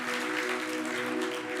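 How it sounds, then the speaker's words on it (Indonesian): A church congregation applauds, a continuous dense patter of clapping under a faint steady tone from the sound system, holding level throughout. "Berikan tepuk tangan buat Tuhan Yesus."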